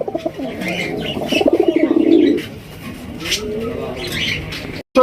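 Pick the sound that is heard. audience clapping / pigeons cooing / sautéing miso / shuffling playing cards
pigeons cooing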